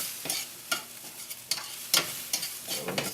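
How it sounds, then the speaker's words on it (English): Creole chicken with fresh thyme being shaken and stirred in a hot pan, several distinct scraping stirs and shakes in an uneven rhythm over a low, constant sizzle, close up with no talking. "Give it another shake and a stir."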